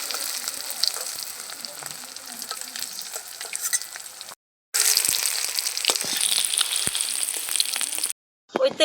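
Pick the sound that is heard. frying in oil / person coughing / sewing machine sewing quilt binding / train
frying in oil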